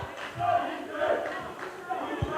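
A basketball crowd in a gym cheers for the TBC Eagles during a men's college game, a broad rising roar that swells and ebbs with scattered shouts and a few sharp thumps.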